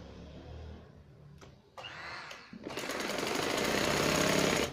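A sewing machine stitching the side and inseam seams of a pair of trousers, first starting in short bursts, then settling into a steady, loud, rapid mechanical whir that grows slightly stronger toward the end.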